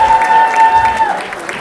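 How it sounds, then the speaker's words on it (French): Audience applause at a Christmas church celebration, a dense burst of clapping from a crowd indoors, loud and steady, with a sustained tone running beneath. "Est-ce qu'on peut applaudir l'accueil aussi?"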